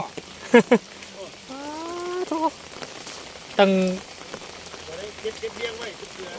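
Steady rain patters on surfaces as an even hiss throughout, while people talk and call out over it in short bursts.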